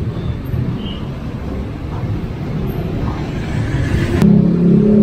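Road traffic leaving the Tlogomas bridge: a steady wash of passing engines, growing louder toward the end as a nearer vehicle rumbles past with a low engine hum.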